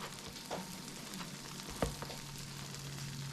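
Thick slices of Texas toast sizzle steadily on a breakfast griddle, a soft even hiss with a couple of faint clicks, close but quiet.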